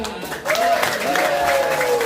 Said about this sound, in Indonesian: Sekali lagi kita tepuk tangan sama Pak Bukhari.